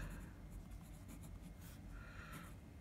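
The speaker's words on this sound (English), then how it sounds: "And let's write something." A fountain pen scratches across paper in continuous, quiet strokes, with faint nib scratching and soft pauses between letters as a line of text is written close up.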